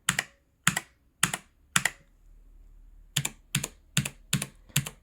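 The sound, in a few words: typing on Aukey KM-G12 mechanical keyboard, blue switches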